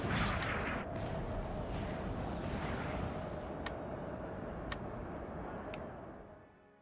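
In the video game Napoleon: Total War, artillery canister shot hits in a loud rumbling battle wash that slowly fades, with a few sharp distinct cracks spaced out near the end.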